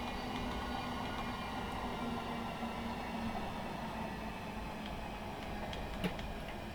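A Class 707 train on the South West Main Line in Train Simulator Classic hums steadily during a brake test, with a constant rail and motor drone, faint ticking and a small clunk near the end.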